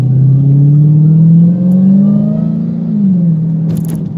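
A Mopar car's engine revs up and holds a throaty, rising drone for a few seconds before easing back slightly, loud and close, with no one talking.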